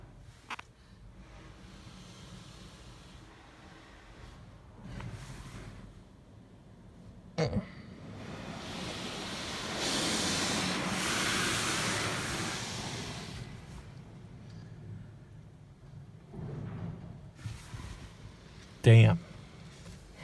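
A PDQ LaserWash M5 at Colonial Car Wash in Albany, NY, sprays its spot-free rinse from the wand. A soft, steady hiss swells mid-clip and then fades, heard from inside the car with faint throat sounds and a thump near the end.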